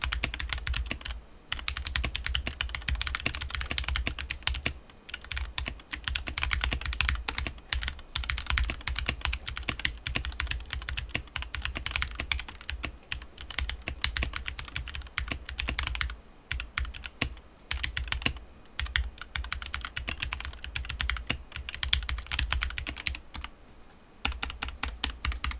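Continuous rapid typing on a Blitzwolf BW-KB1 keyboard, a budget mechanical board, with dense clicky keystrokes close up and brief pauses, heard alone without any talk.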